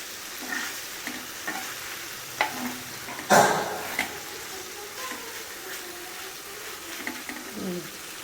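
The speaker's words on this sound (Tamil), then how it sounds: "இந்த இறாலை எல்லாத்தையும் நல்லா திருப்பி திருப்பி விடணும்" Prawns fry and sizzle in a hot pan as they are flipped, a steady low crackle broken by scattered clinks and stirring scrapes, with one louder clatter midway; close and moderately quiet, with no talking.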